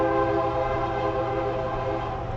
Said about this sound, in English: Honk the horn a little bit more, train.